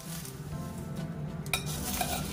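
Poha (flattened rice) mixed by hand with turmeric powder, salt, chili and sugar: a soft, continuous dry rustle and shuffle of flakes, with a brief scrape against the bowl near the middle, close and quiet.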